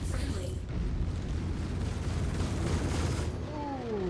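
A tank's cannon shot booms in an armored-combat video game, a loud low blast that fills the clip with rumbling engine and battle noise while a voice talks over it.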